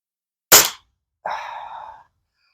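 A Hatsan air rifle fires once with a sharp crack, followed by a fainter, ringing metallic report from a distant boar target.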